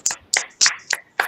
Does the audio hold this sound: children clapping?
yes